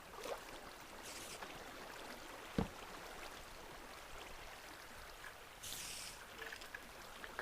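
Water flowing steadily in a Minecraft cave deep underground, a soft continuous trickling wash with one brief knock and a few faint splashy bursts.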